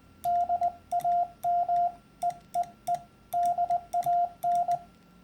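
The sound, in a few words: hand-sent Morse code CW with ill-timed dits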